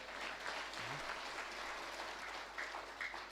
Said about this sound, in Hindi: तालियां बड़ी कमजोर है